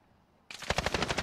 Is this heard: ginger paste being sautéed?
no